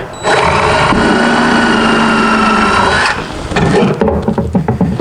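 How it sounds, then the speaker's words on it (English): A power drill whines steadily at high speed for a few seconds pre-drilling oak, then stops, leaving clicks and knocks of work close by. "I've got to pre-drill these, of course, because I'm going into oak."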